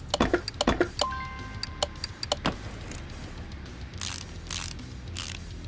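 Rapid ratchet clicks from tightening a lower control arm on a Mazda RX-7 in Car Mechanic Simulator 2018, sharp ticking bursts followed by a brief tone and later softer mechanical swishes.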